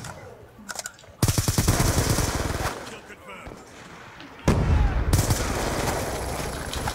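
Light machine gun fire in the Black Ops 2 multiplayer video game, bursts of rapid automatic shots in two loud stretches separated by a quieter gap, with a voice talking over the action.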